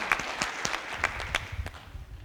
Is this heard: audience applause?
yes